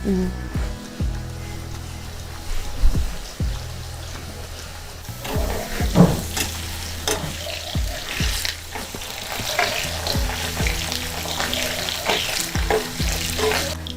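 Precooked potatoes frying in oil in a pan, a continuous close sizzle with bursts of crackling and scraping stir noises that run for the whole stretch.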